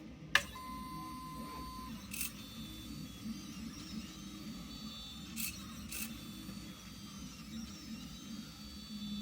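An AxiDraw pen plotter starts drawing, giving a quiet steady mechanical whir with faint motor whines and a few brief higher-pitched servo bursts, with no one speaking.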